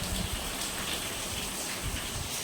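Steady rain pouring down in a dense, even hiss of drops on surfaces, constant and close with no voices.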